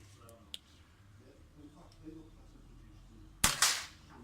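A single sharp air rifle shot fires pellets at a rifle scope near the end, loud and close, following a quiet stretch with faint clicks of loading.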